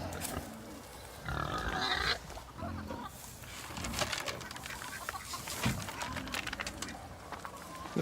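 Pigs on a homestead farm grunting and squealing amid clucking chickens, a busy mix of livestock noises at close range with no one speaking.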